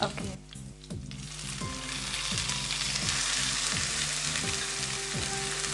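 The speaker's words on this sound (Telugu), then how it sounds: "బ్రౌన్ కలర్ వచ్చే వరకు వేయించుకోవాలండి." Onion paste frying in oil with dried and green chillies, a loud, steady sizzle close by that holds for several seconds, with periodic scraping strokes of a spoon running through it.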